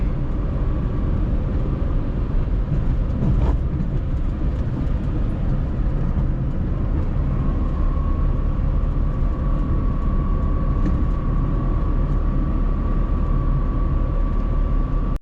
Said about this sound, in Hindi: ये लो, खड़क खड़क खड़क खड़क होती रहती है, एकदम स्मूथ नहीं बनते रोड।